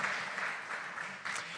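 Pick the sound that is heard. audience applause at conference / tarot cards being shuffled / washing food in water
audience applause at conference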